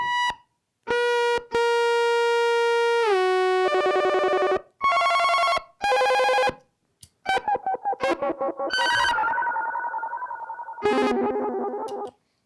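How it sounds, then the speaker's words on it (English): A Gakken SX-150 pocket analog synthesizer plays bursts of buzzy electronic tones: sustained pitches that bend and slide, choppy stuttering notes, and wobbling warbles, with no voices. "now we're back to just the sound of the Gakken SX-150"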